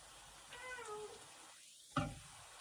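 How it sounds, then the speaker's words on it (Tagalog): A cat gives a short, rising meow close by, then a faint second cry is cut by a brief knock, with quiet background hiss. "Meow Maya, you always in my vlog"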